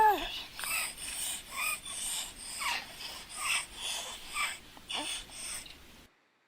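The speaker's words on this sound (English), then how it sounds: "Clearly, you're hearing this child gasping for breath" A child gasps for breath with a wheeze on each labored pull, about eight rasping, squeaky breaths in a steady rhythm, close and fairly loud, then silence at the end.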